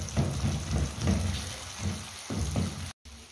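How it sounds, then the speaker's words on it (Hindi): Egg yolks sizzle and fry in a tomato masala, giving a steady close crackle with soft bursts of stirring and no talk. "6 की 6 जर्दियाँ मैंने इसमें डाल दी और इसको हम अच्छे से भून लेते हैं"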